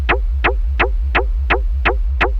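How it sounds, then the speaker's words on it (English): A dry hard techno kick drum with no effects, played alone in a steady four-on-the-floor pattern of seven evenly spaced, punchy hits with a deep low thump. "The kick sounds like this without the effects."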